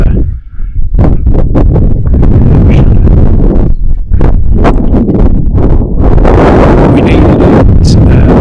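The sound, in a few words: strong wind while sailing on a boat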